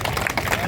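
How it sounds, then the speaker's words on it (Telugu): School prize ceremony audience clapping for a 9th-class winner, a dense steady patter of applause throughout with crowd noise mixed in. "చప్పట్లు"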